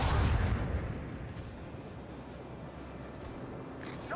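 Video game battle gunfire, an opening heavy blast followed by rumbling, continuous barrage with distant thuds and crackles.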